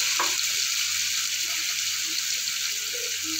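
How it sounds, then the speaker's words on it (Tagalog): Tofu frying in hot oil for sisig, a constant bright close sizzle that holds steady throughout with a few faint knocks underneath. "Mainit na yung ating mantika. Lalagay na natin yung ating tokwa."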